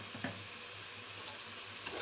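Mint leaves sautéing in tomato masala for a pressure-cooker chicken biryani, a faint steady sizzle with a couple of soft stirring clicks.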